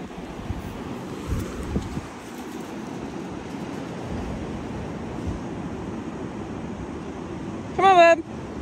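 Wind and ocean surf on an Alaska shore rumble steadily and fairly close, with low gusty buffeting; a short high bird-like call or squeak rises briefly near the end.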